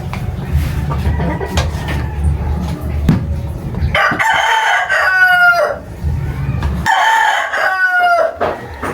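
A rooster crows loudly twice, the long rising calls close by, with low rumbling background noise before the first crow.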